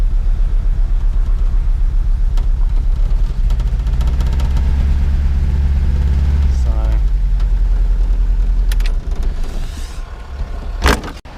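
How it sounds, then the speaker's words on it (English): A Series 1 Ford Escort RS Turbo engine idling with a misfire, a close, loud, uneven low rumble with a lumpy pulsing beat, followed near the end by a sharp clunk as it fades. "Still got a slight misfire."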